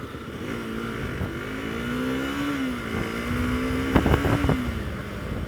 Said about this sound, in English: See, as I said, it launches like a very good bike.